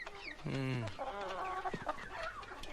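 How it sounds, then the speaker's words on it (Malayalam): Chickens cluck and squawk close by inside a vehicle, one long harmonic call standing out early, with a steady mechanical hum running underneath throughout. "കോഴിയാ സാർ, നല്ല വയറ്റിലകം കോഴി"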